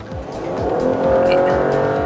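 A car engine revs hard and climbs in pitch under full throttle, a loud, steady roar building over a couple of seconds.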